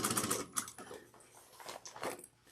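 A sewing machine runs in short bursts, stitching a second row of topstitching on a slouch bag, with quick rattling mechanical clatter that stops and starts, close by and without talk.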